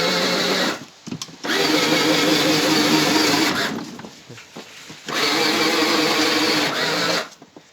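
A small electric motor in a remote-control toy car whirs loudly and steadily at high speed, cutting out briefly twice before spinning up again.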